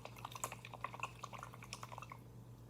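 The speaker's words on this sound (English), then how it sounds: "Then we're going to wash the brush, swish it in the water." A paintbrush is swished in a bowl of water while painting ceramics, making soft close-up splashes, drips and small clinks in quick irregular bursts over a low steady hum.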